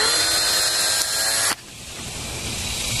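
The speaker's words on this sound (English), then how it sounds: "Once you have a position where you want to drill, just go ahead and start drilling." A handheld power drill whirs loudly and steadily while boring a hole to mount the IIWEY DC03 dash cam, then cuts out abruptly around halfway, leaving a quieter, lower hum.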